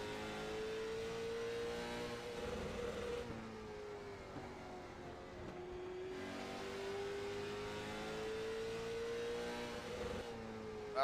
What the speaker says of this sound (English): You can just hear the engine going.